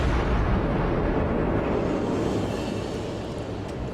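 Heavy rumbling roar of Cleveland cruiser guns firing shells in a naval video game, a dense sustained boom that fades slowly toward the end, loud and continuous.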